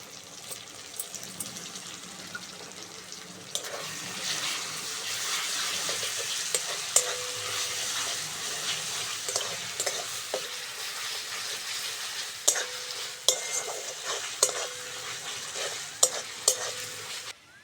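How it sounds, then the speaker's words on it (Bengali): Ginger-garlic paste sizzling in a pan with onion, tomato and green chili, a continuous close frying crackle broken by repeated spoon scrapes and clinks against the pan while stirring, with no voices. "পেঁয়াজ, টমেটো আর কাঁচা লঙ্কাটা হালকা করে ভেজে নিয়েছি। এবার আদা রসুন বাটাটা দিয়ে দেবো।"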